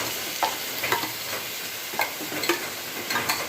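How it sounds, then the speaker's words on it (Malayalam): Ginger paste frying in a pan for prawn pickle gives a steady close sizzle, with soft scraping stirs recurring every half second or so and no talking. "ഇഞ്ചി പേസ്റ്റ് ഇട്ട് കഴിഞ്ഞ് ഇനി ഇഞ്ചി പേസ്റ്റ് ഒന്ന് മൂത്ത് നല്ല ഫ്രൈ ആയി വരുമ്പോൾ"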